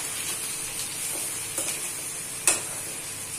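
Okra with spices and dried mango powder is stirred in a frying pan, a soft continuous sizzle and stir carrying a sharp spatula scrape near the end, with no voices.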